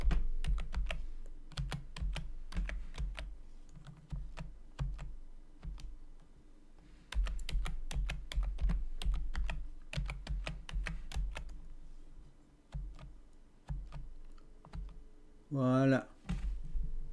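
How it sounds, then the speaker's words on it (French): Rapid bursts of close, crisp key clicks as a password is typed on a computer keyboard while setting up a Debian 12 virtual machine in Proxmox, with brief pauses between runs and a short rising electronic sweep near the end. "Je tape le mot de passe."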